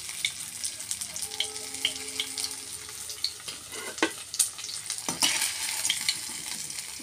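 Fritters (bora) sizzle in hot oil in a pan, some pieces breaking apart, with close, steady crackling, intermittent stirring and scraping, and a louder clatter near the end.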